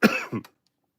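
A single sharp cough close to the microphone, followed by a short throat-clearing burst, then silence.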